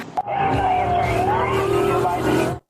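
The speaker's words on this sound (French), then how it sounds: "sa supérieure arrive à la maison, gyrophare et sirène allumée" A police car arrives at a house with its siren wailing, a loud steady tone sliding slowly in pitch over engine rumble and road noise, rising close by and then cutting off abruptly.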